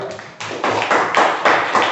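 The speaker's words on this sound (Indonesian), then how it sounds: "beri tepuk tangan untuk kelompok 2" Classroom applause for a student group after its presentation, coming in uneven bursts of clapping from a handful of people, fairly close and loud, with short pauses between surges.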